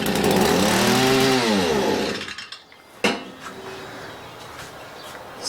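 A Stihl MM65 multimator engine with a starting fault runs on choke, buzzing loudly and wavering in pitch for about two seconds before dying out, followed by a sharp knock and quiet clatter.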